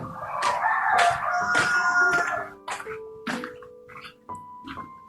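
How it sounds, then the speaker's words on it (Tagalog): Backyard chickens in a pen, a rooster crowing loudly and close, then scattered clucks and short calls trailing off. "Ito yung manok natin, tol."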